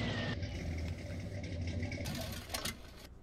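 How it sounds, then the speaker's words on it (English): Truck engine in the Farming Simulator 19 game, running steadily with a low idling rumble and a whirring tone, with a brief louder rise near the end. "Oh man, I love how that truck sounds there."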